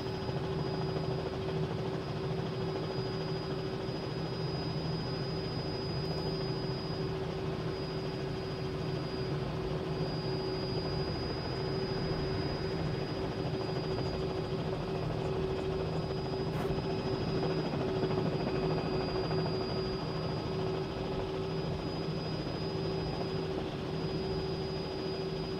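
A Cessna 152 taildragger from the JPL add-on in a flight simulator taxis around an airport taxiway and runway, its engine a steady, unbroken droning hum with a faint whine throughout.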